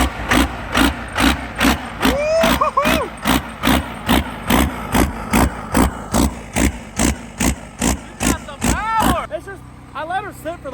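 A diesel engine in an OBS Cummins truck cranks with a steady, rapid rhythm of loud, even pulses for about nine seconds without catching, then stops. A voice talks over the cranking.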